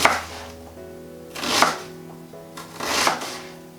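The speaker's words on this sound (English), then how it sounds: "This is the only real chopping that you need to do." Three separate knife chops strike a board at an unhurried pace while chopping vegetables for a sweet potato, chickpea and spinach curry. Each one lands crisp and close, with quiet gaps between them.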